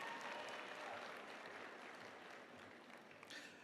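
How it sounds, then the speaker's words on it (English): Audience at a university commencement ceremony clapping in a sustained round of applause that fades slightly over the stretch, heard from within a large hall. "Please, another round of applause for Mr."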